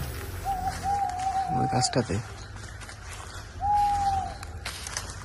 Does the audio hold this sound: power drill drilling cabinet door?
no